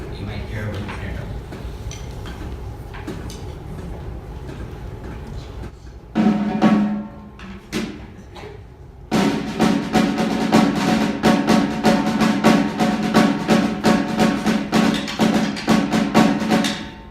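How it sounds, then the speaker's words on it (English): A snare drum played at a school Black History Month assembly, rapid crisp strikes bursting out loud in a dense rhythmic pattern after a stretch of hall noise, murmuring voices and a few scattered hits. "I'm going to play something that you might hear with the snare drum"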